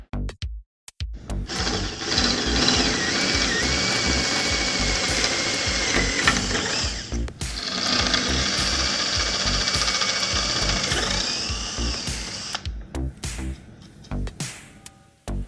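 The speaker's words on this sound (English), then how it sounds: "I'm going to enlarge the hole using a 1/4 inch diameter drill bit." A 1/4 inch drill bit enlarges a hole during a bathroom sink cabinet installation, a continuous loud grinding drone that runs for several seconds, breaks off briefly, then resumes before stopping into quiet.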